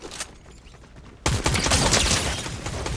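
A sudden loud burst of gunfire in the battle royale game Fortnite, starting after a quieter second of ambient game sound and continuing as a dense rattle of shots to the end.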